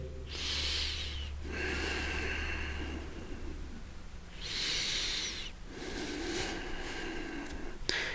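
Deep breathing during a yoga class, slow drawn-out breaths with long airy inhales and exhales alternating in a steady rhythm, close and clear with no talking.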